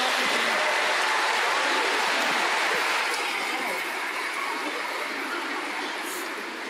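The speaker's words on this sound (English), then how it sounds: "Let's give them a round of applause again." A large audience at the Our Lady of Angels School Christmas program applauds in a dense, steady wash of clapping that slowly fades.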